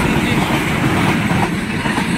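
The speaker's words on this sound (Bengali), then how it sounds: "এখন আবার আছে একটা মালের রেল" A goods train passing on a railway line sends out a steady, loud rumble and roar close by, continuous and broadband throughout the short stretch.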